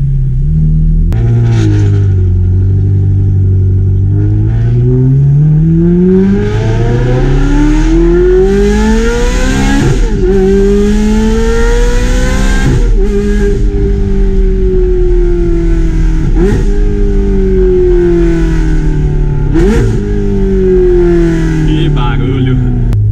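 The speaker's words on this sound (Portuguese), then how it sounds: "E agora uma arrancada na Ferrari." A Ferrari 430 sports car accelerates hard from a standing start, its engine revving loud and close through rising sweeps with several sharp gear-change dips, climbing repeatedly over about twenty seconds, with voices speaking faintly underneath.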